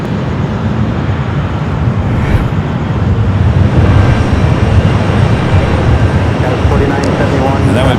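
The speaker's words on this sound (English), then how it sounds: "we do have the 777 arriving on the south side" A Boeing 777 airliner arriving on the south side at LAX, a broad steady jet roar that swells slightly midway and holds at close, loud level, with a voice talking over it.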